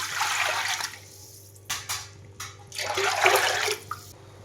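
Water poured from a vessel into a cooking pot for millet, two gushing pours separated by a short pause with a couple of small splashes, close and fairly quiet.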